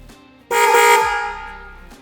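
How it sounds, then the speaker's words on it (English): A loud aftermarket 110 dB dual-track horn on a Can-Am Canyon blares in one sustained blast of about a second and a half, bright and brassy, fading slightly as it holds. "test your new horn to confirm everything is working properly"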